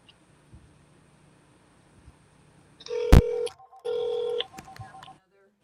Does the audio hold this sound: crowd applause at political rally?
no